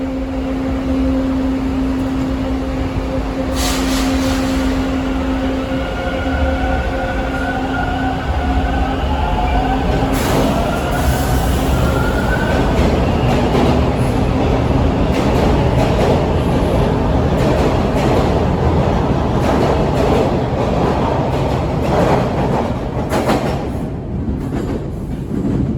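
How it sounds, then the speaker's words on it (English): A Toronto TTC Line 2 subway train rides between Kipling and St George, giving a loud, constant rumble with rhythmic wheel clatter, bursts of squeal and a brief rising motor whine, heard from inside with no talking. "I ride the Toronto subway."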